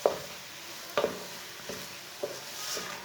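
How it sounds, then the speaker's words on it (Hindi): A spoon stirs carrot halwa (gajar halwa) in a pan, making four distinct scraping knocks spaced about a second apart over a soft sizzle. No speech. "इसे ऐसे ही चम्मच चलाते हुए पकाना"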